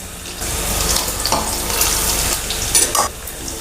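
Turmeric tipped into hot oil with sizzling sliced garlic and green chillies for a tempering, a loud continuous frying hiss with stirring scrapes over it.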